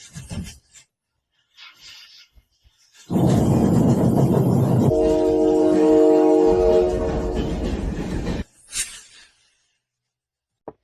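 A freight train rumbles past on the railway, loud and close with steady grinding and a sustained horn-like tone for several seconds, fading away.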